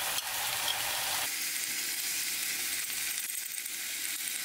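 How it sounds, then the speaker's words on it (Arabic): Meat, onions and mixed spices sizzling and frying loudly in a pan, a steady close crackle with stirring and scraping throughout and no talk. "شقلب مع اللحمة مع البصل"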